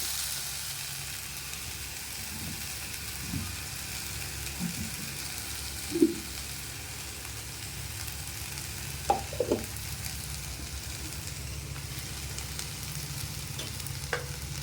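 Eggplant sautéing in a pan gives a soft, steady frying sizzle throughout, broken by a few sharp scrapes and clicks of stirring near the middle.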